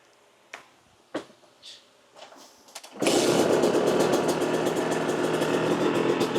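A 2006 Yamaha YZ250 dirt bike sits in neutral: a few quiet mechanical clicks, then the two-stroke engine fires and settles into a loud, steady idle with a rapid pulsing beat.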